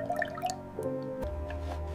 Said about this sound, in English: let's give our jar a little bath to ensure it's perfectly clean and ready.